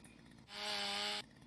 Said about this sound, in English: let's do the chainsaw.